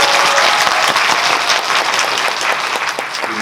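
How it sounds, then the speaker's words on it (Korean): Loud, dense audience applause in a cinema during a movie Q&A event with actors Nam Joo Hyuk and Lee Sungmin, sustained and even throughout with no speech over it. "박수 부탁드립니다."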